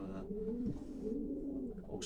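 A racing pigeon coos nearby in a low, soft, rolling call that repeats in a couple of throaty phrases against a quiet background.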